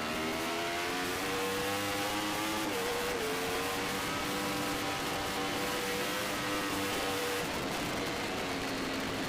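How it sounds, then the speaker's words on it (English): Formula Pacific racing motorcycles roar around a track in an AFM race, engines screaming at high revs with shifting pitch as they accelerate out of a turn, heard continuously from a distance. "You can see the wheelie out of Ricky Corey's bike way back here as it comes out of turn number 6"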